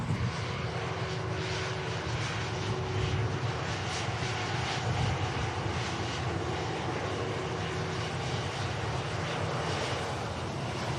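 A Qatar Airways jet entering the runway for departure at Manchester Airport, its engines a broad, steady roar with a low rumble that swells slightly mid-way, sustained and fairly near with no talking.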